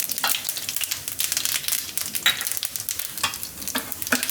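Mustard seeds and whole cumin sizzle in hot oil for a Gujarati methi matar pulao, crackling and popping in quick irregular bursts with steady frying hiss, close and clear without talk.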